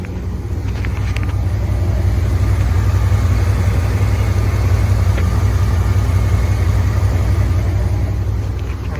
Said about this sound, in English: when you started the truck, if you could hear everything running so much better here